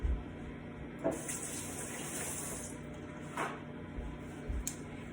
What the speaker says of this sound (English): And give my hands a quick rinse.